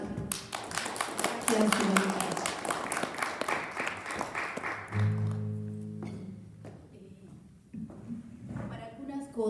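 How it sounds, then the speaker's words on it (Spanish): An audience at a cultural-center performance of The Masque of the Red Death claps in a dense burst of applause that fades after a few seconds, followed by a brief spoken word. "Démosle un fuerte aplauso"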